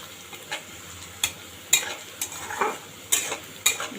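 Onions being fried in a pan until brown for a Bengali pangas fish curry with tomato, with a low sizzle broken by several sharp stirring scrapes and clinks of a spoon against the pan.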